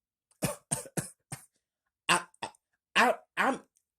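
A series of eight short, dry coughs in two bursts, separated by a pause, close and fairly soft.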